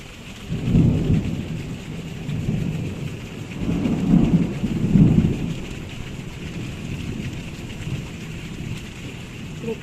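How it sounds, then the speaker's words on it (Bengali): Heavy downpour with thunder: dense, steady rain hiss fills the background while low rolling rumbles swell and fade, strongest around the middle, with no voices. "দেখো এখানে বেশ ভালো একচোট মুষলধারে বৃষ্টি হয়ে গেল।"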